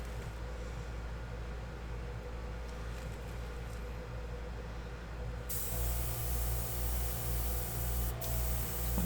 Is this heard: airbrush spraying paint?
yes